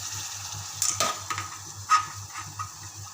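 Washed, chopped bitter gourd dropped into hot masala in a pan, with a sizzling hiss, a burst of noise as the pieces land, then scraping stirs and a low rhythmic hum underneath.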